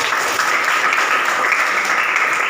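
Applause in a classroom-style session, a brief, steady burst of clapping from a group that stays loud and even throughout.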